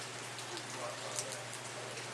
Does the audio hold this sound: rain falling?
yes